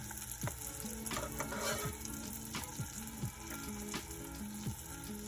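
Eggs frying in grass-fed organic butter alongside carnitas in a pan, a steady close sizzle with a few scraping clicks and clinks of a utensil, no voices.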